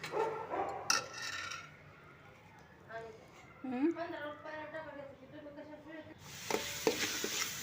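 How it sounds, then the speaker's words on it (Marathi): Soft sizzling of green masala, coconut, ginger and garlic frying in oil in a pan for mutton curry, with stirring, heard faintly beneath someone talking. "हे मी चांगलं भाजून घेते तेल सुटेपर्यंत"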